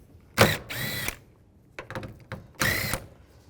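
A 10mm socket wrench ratchets nuts off a 2003-07 Nissan Murano side mirror in two main clicking bursts with smaller clicks between, close and crisp with quiet gaps.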